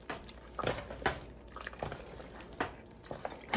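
Creamy mac and cheese being stirred in a pot, soft wet squelches and thick gloopy plops at an uneven rhythm, faint and close, with no one talking.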